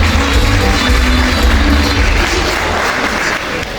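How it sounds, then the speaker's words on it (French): An audience at an awards ceremony honouring Haitian legend artists applauds in a dense, sustained wash of clapping that tapers slightly at the end. "On a fini, encore une fois, sur vos applaudissements."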